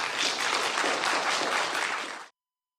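Crowd at Daewoo Shipbuilding & Marine Engineering's final shareholders' meeting applauding, a full, steady round of clapping that stops abruptly after about two seconds, leaving silence.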